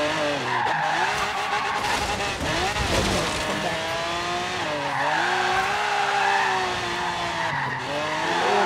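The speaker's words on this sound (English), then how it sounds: "We'll just start drifting." Cars skid and drift in the Forza Horizon 3 racing game, tire squeal and engine whine sweeping up and down continuously and loudly, with game music or effects layered beneath and a voice briefly audible at times.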